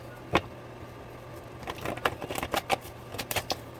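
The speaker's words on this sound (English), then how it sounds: "it's really difficult at times to shuffle these index cards, but I got to get a good shuffle in." Index cards being shuffled by hand, a single snap, then a quick burst of papery riffling and flicking clicks at close range in a quiet room.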